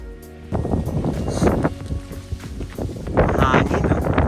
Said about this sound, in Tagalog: Sarap ng hangin yan